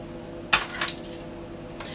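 Knife or fork scraping and clinking against a mixing bowl while butter and lard are cut into flour for cherry shortcake, with a few sharp metallic taps and scrapes spread across a quiet background.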